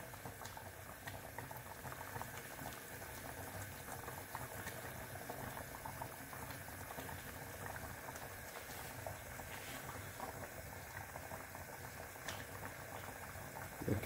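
Kadhi, a thick yogurt-based curry, bubbles and simmers steadily in a pot, a quiet, close, continuous burble of popping bubbles.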